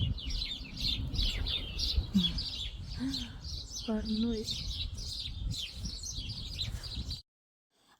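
Small birds chirp and tweet repeatedly outdoors through most of the stretch, high and busy, with a voice speaking underneath before the sound cuts off near the end.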